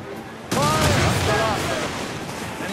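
Ship cannon broadside in Assassin's Creed Rogue naval combat, a sudden loud booming volley that rumbles on with overlapping blasts, with voices shouting.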